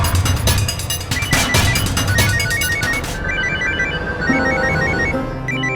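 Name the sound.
telephone ringing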